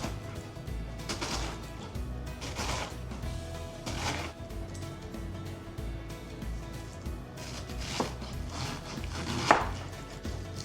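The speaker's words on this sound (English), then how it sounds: "So today I'm only gonna be using half of this cabbage. And again, we will be slicing it in big pieces." A knife slices half a cabbage into big pieces for bulalo soup, giving a handful of sharp, separate chops spaced a second or more apart over a low kitchen background.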